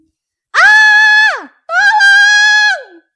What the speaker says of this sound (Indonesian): Cici menjerit keras